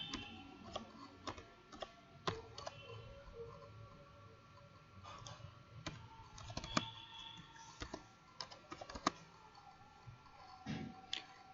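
Computer keyboard typing heard close and fairly quiet, an irregular run of light clicking keystrokes with short pauses, alone without talk.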